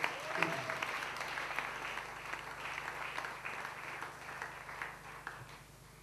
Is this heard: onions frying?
no